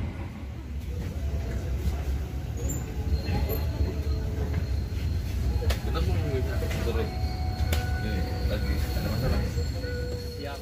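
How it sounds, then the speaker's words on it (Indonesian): The Galunggung passenger train rumbles into track 1 at Leles station in Indonesia, its wheels squealing against the rails, with a steady low drone, clanks and faint voices in the background. "Kereta api Galunggung masuk di jalur 1 stasiun Leles."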